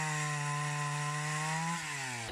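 Chainsaw tearing through English oak and European ash, a loud sustained engine whine held steady under load, then the pitch drops as the cut eases near the end, with no voices.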